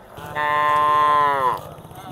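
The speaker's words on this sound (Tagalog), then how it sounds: "Section po ito ng mga baka at mga baboy." A single long, loud moo from a cow at a livestock market where cattle and pigs are sold, held for about a second over low background noise.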